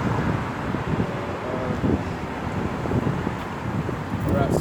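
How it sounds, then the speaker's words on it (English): Wind gusting across an exposed outdoor campsite up high, a steady broadband roar buffeting the microphone throughout, with some faint talk mixed underneath. "it's a bit windy today up here."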